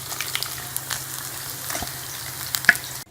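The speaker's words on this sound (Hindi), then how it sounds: "इसी तरह मीडियम फ्लेम पे आप करें तो बहुत अच्छी ये फ्राई होती है फिश" Fish frying in hot oil over a medium flame, a steady close sizzle with small crackles and pops throughout and one sharper spit near the end, with no talking.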